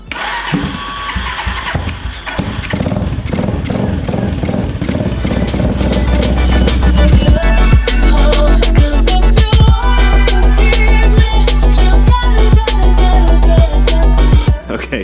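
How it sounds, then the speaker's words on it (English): A Suzuki GN 250 motorcycle engine cranks and fires after carburetor trouble, then settles into a loud, steady close-up running note with dense rhythmic firing pulses that hold for the rest of the stretch. "Okay, so the bike is sounding awesome."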